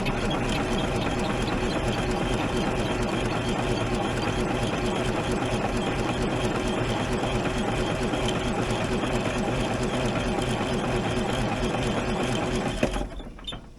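An Allis Chalmers crawler engine that has sat for years cranks over on a jump pack in a fast, rapid, steady chugging rhythm that stays level and close. It stops abruptly near the end.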